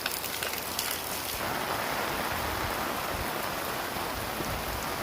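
Heavy monsoon rain near Mangla Dam in Pakistan, a thick, unbroken roar of falling water that grows denser and more rushing partway through, with no one talking.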